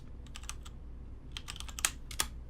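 Quick bursts of typing on a computer keyboard, two clusters of light key clicks separated by a short pause, close and fairly quiet, no voices.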